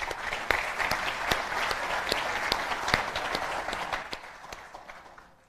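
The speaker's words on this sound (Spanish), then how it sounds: "Un aplauso, por favor, para Sebastián Claro." A seminar audience breaks into applause, a steady crowd of clapping with a few sharp, louder claps standing out, holding for several seconds before tapering off at the end.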